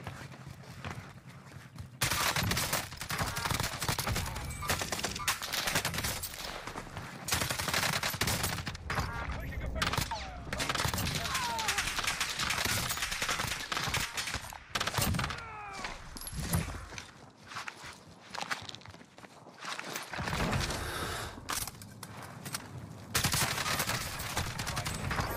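Gunfire in Warzone on the Fortune's Keep map, repeated loud bursts of rapid shots and fusillades, close, with pauses between volleys, heard alongside players talking.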